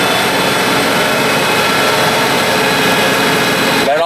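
Stage 2 tuned MK6 VW GTI held at high revs on a dyno, a loud, dense, continuous engine roar with steady whine filling the whole stretch, up close and unbroken.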